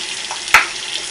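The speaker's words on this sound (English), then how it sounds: "when you wash the conditioner out just make sure that you don't wash all of it out" A brief close wash of running water over conditioned hair at a sink or shower, a steady hiss with one louder splash in the middle, no speech.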